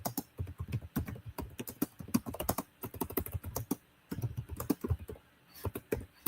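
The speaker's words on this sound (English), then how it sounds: "I can't type." Fast clattering keystrokes on a computer keyboard, close and fairly quiet, arrive in rapid irregular bursts with a brief pause near the middle and no talking.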